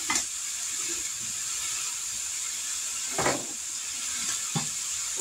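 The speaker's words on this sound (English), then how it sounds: "We'll brown them up on each side" Bratwurst sausages brown in a pan under a press, making a constant close hiss and sizzle, with a couple of brief scraping or clattering bursts partway through.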